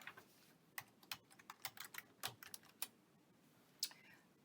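A computer keyboard is typed on in a quick burst of about a dozen crisp key clicks with a couple of short pauses, close and fairly quiet against a low background hiss.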